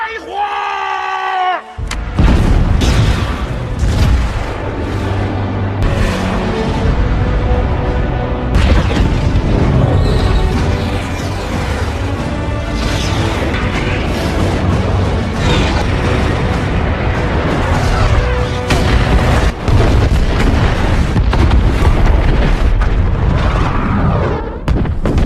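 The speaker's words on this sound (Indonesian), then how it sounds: "mereka pun langsung menembakkan rudal-rudal mereka dan menghancurkan para musuh serta menghancurkan tank-tank mereka" Missile strikes blow up tanks in the film Wolf Warrior, with continuous heavy explosions, booming impacts and a dense, loud battle soundtrack that keeps going without a break.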